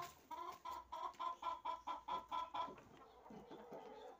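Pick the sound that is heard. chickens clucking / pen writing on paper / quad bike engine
chickens clucking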